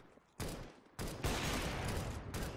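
Gunfire rattles in Counter-Strike: Global Offensive, with several loud rapid-fire bursts close by separated by brief lulls, and no talking.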